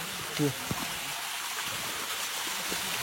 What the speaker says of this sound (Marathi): हा छोटा वॉटरफॉल का